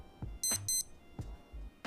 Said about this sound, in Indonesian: tiap pergantian jam nanti dia bunyi beep kayak gini guys